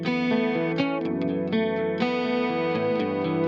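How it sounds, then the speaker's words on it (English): Acoustic guitar fed through an amp plugin gives a dense, saturated, chorused strum. Chords ring continuously with a few accented attacks, loud and close, with no voices. "It's kind of edgy to put an amp on an acoustic guitar."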